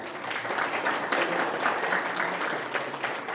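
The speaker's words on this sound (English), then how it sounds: "Give these folks a round of applause" Crowd applause for election candidates, an even rush of many hands clapping at moderate loudness, sustained throughout with no speech over it.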